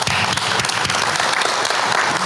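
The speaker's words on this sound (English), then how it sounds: "Let's give him a round of applause." An audience at a university system board of supervisors meeting claps steadily, a dense, even wash of applause from many hands filling the room throughout.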